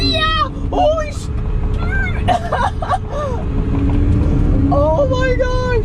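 Loud, steady engine roar of a Prinoth Bison X snow groomer performing a burnout, rumbling continuously throughout while excited voices shout and react over it.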